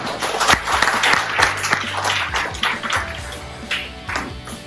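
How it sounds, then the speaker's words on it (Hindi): An audience at a business talk bursts into loud applause as the next speaker is welcomed, with sharp individual claps over a dense, close wash that gradually thins out. "जोरदार ताली।"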